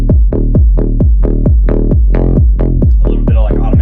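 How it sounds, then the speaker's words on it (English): A modern tech house groove pairs a deep offbeat bassline with a punchy kick, thumping in a steady, even rhythm for a few seconds, loud and dry with no voices, plus a brief swept texture near the end. "this modern offbeat style bass is really common for this style of tech house now"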